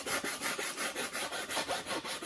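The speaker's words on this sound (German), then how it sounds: "jetzt nehme ich einfach eine normale Feile und schaue mal" A hand file rasps back and forth across a rigid foam wall, steady rhythmic strokes about four per second, close and fairly quiet with no talking.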